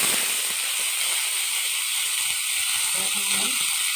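Grated carrots frying in hot ghee for gajorer payesh, a steady bright hiss and sizzle filling the whole stretch at an even level, with faint clicks of stirring beneath.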